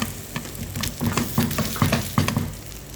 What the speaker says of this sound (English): You fry it, you have to press it so that the egg that's inside that is not done will come out